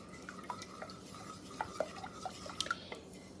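A spoon stirs brine sauce, with light scattered metallic clinks and taps against the bowl or pot, faint and close, in a quiet room.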